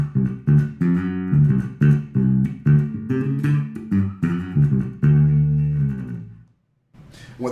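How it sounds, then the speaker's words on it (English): Passive bass guitar played with the tone knob turned fully up, a bright run of plucked notes sounding close and clear, ringing out before a brief silence and a final noisy scrape. "So with the tone knob all the way up,"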